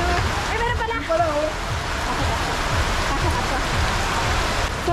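Steady, dense rain falls outdoors during a village merrymaking in Cabatuan, Iloilo, making a continuous loud hiss and patter that fills the whole clip, with faint voices and tones briefly underneath near the start.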